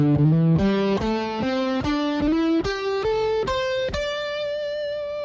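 Electric guitar with an effects unit and distortion plays a beginner scale line, about a dozen separate notes stepping upward with short slides between some, ending on a sustained higher note, loud and alone with no talk.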